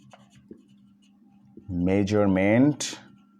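Pen scratching on paper while a biology assignment is written out by hand, a soft, steady scratching close by, with a voice briefly speaking over it partway through.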